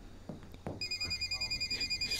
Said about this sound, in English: Stop calling my phone.